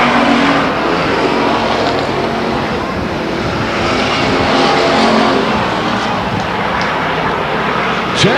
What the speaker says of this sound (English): They're going to drag race down the front stretch.